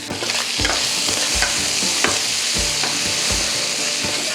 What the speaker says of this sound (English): We're gonna add some oil to the pan and we'll start by frying the pork.